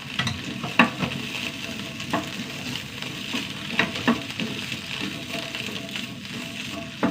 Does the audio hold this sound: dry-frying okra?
yes